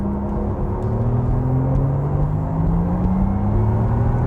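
Porsche Taycan GTS electric car accelerating on a country road with push-to-pass, a steady whirring motor tone rising smoothly in pitch over a constant low road rumble.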